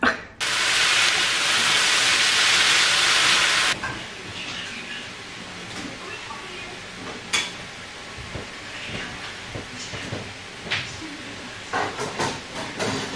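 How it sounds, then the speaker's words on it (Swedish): Rice boiling in a pot on a home stove, with a loud steady hiss of steam or bubbling that cuts off after a few seconds, followed by quieter clinks and kitchen handling sounds. "jag kokar ris här"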